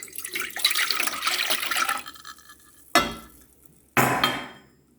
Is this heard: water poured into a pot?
yes